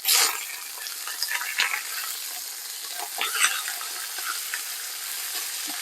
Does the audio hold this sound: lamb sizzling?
yes